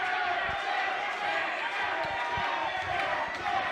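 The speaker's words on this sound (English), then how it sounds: "Crowd going wild here." A crowd at a Hammerlock pure wrestling show roars steadily, a loud sustained wall of cheering with dull thuds from the ring beneath it.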